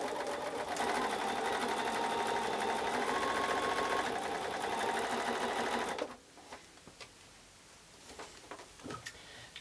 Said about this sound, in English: I'm using neutral thread and a 1/4 inch foot on my sewing machine.